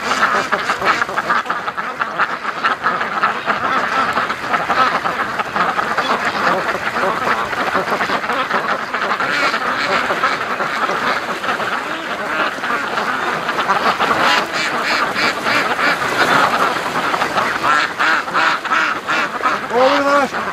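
A flock of Muscovy ducks, one with white wingtips, rushes toward a lake, quacking and honking continuously and loudly close by, with some human voices mixed into the din.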